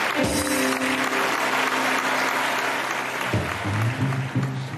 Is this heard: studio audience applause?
yes